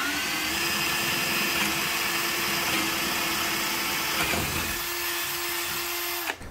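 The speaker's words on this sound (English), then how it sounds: "then drilled a 1/4-inch hole." A power drill bores a 1/4-inch hole through a model railway table, making a steady close whine that holds at one pitch, shifts briefly midway, then stops at the end.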